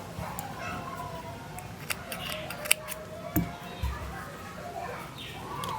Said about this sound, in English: chain 1 and cut your yarn